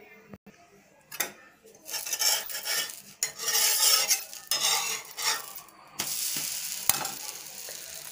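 A dosa sizzles on a hot griddle in a home kitchen at night, a frying hiss that rises and fades in waves, mixed with scraping and the clink of a metal spatula.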